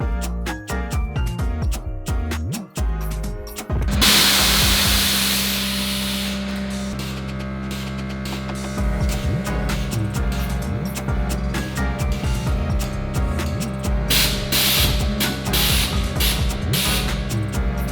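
Trimming a car body section back to the hood latch on an RWB Porsche rebuild, with a power tool cutting metal in a loud continuous whine and grinding bursts, alone with no talk.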